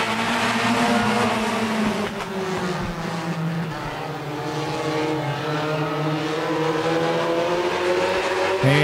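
Race cars pulling away at the start of a heat, a loud layered engine roar rising and sweeping in pitch as several cars accelerate together, with a faint announcer voice underneath.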